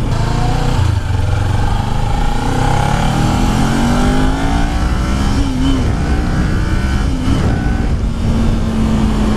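A 2018 Kawasaki Ninja 400 motorcycle accelerates hard on the road, its engine note climbing steadily in pitch through the gears, loud and continuous with rushing wind noise and no talking.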